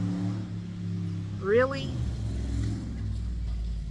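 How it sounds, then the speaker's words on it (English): The engine of a FedEx delivery truck revs outside, a low, rumbling engine surge that rises briefly and then settles, heard from a short distance while a person speaks a word close by. "Oh, it's the FedEx truck."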